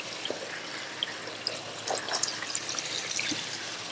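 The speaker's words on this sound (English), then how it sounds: "you can already see all that dirty water coming out." Dirty, muddy water drains from a container of crawfish, trickling and splashing steadily at close range with scattered small drips and no talk.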